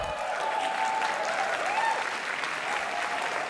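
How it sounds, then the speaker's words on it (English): Steady audience applause fills a graduation ceremony hall at Columbia University School of the Arts, a dense even patter of many hands at moderate level, with a faint tone running underneath. "you can hold on to the applause for them"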